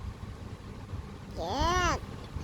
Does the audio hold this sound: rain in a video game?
no